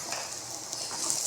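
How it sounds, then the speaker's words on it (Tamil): Ingredients sautéing with salt in a hot pan during home cooking give a brief, soft, steady sizzle with no voices. "உப்பு போட்டு அதையும் வதக்கி விட்டுக்கலாம்"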